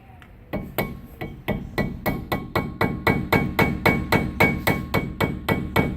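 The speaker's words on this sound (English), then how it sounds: "I'm just gonna tap it till I can actually feel the screwdriver slide in between" A 3-pound sledgehammer taps repeatedly on a single-piece brake rotor and hub, with sharp ringing metallic blows that start slowly and settle into a fast, even rhythm, loud and close.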